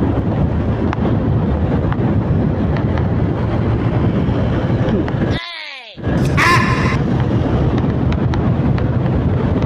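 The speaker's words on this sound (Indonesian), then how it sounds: "angin lumayan ya" Strong wind roars across the microphone of a motorbike riding along a straight open road at night, a loud, constant buffeting that briefly cuts out and then rushes back.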